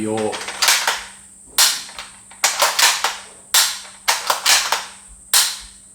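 A rifle action being cycled rapidly, several sharp metallic clacks in quick clusters with short pauses between them, close and loud with no talking.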